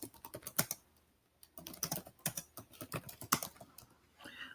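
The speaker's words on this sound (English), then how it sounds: "So I can type in my answer." Keystrokes on a computer keyboard as an answer is typed in, a quick irregular run of clicks with a brief pause, then more rapid tapping, close and alone.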